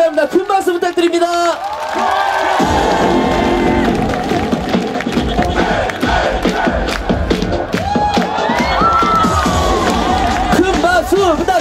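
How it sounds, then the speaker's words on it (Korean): Festival crowd at the Mungyeong traditional tea bowl festival cheering and clapping for a trot singer, loud dense crowd noise with shouts over music, steady throughout. "큰 박수 부탁드립니다. 다 같이 군드레."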